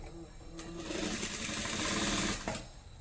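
A sewing machine stitches thread piping with a presser foot along one side, a close, steady mechanical whir that rises and holds before stopping near the end.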